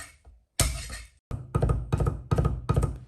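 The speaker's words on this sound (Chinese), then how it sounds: "再来4粒大蒜，趁其不备拍匀剁碎。" Four garlic cloves are smashed and minced with a knife on a chopping board in a Chinese kitchen, heard as a close, loud thump followed by a run of firm, evenly spaced chopping blows.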